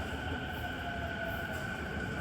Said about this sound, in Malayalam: ഇപ്പോൾ ട്രെയിൻ വരുന്നുണ്ട്, അനൗൺസ്മെൻ്റ് ആയിട്ട്.